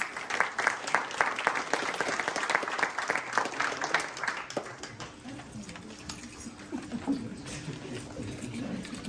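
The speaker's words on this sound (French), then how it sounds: "On l'applaudit très fort." A conference audience breaks into loud, dense applause that carries for several seconds, then fades into quieter room noise and scattered movement, with a voice faintly present underneath.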